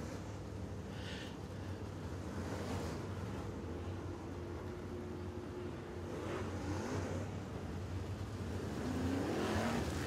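Race cars roll at Boyd Speedway behind the pace truck, a steady engine drone heard from a distance that swells slightly toward the end as the field passes, with no talk over it.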